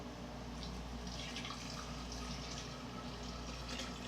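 Hot water poured into a jug for making tea, a steady, soft trickling pour with faint splashes throughout, heard alone.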